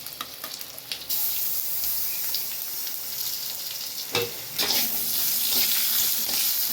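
Moong dal sautéing in a pan with ginger paste, salt, turmeric, coriander-cumin powder, a dried red chilli and bay leaf, giving a steady close sizzle that swells louder after stirring, with scraping clicks and no talk.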